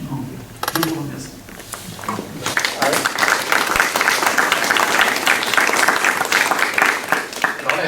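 Applause from an audience at an association's general assembly: dense, steady clapping rises after about two seconds and holds loud through the end, with some talk at the start.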